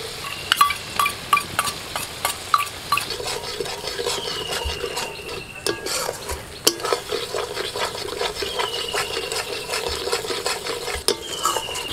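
A spice masala with whipped yogurt is stirred and sautéed in a pan, with repeated utensil scrapes and clinks against the metal over a low sizzle. The close stirring strokes come in an uneven rhythm, and no one talks.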